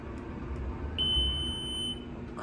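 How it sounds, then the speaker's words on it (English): A single sustained electronic elevator beep, high and piercing, holds for about a second over a low background rumble from a hydraulic elevator. "That's a really loud beep."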